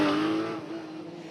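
A GT Open Cup Europe race car at Spa-Francorchamps exits the Bus Stop chicane in 2022, its engine note loud and close, revving hard with a steady high whine as it accelerates away.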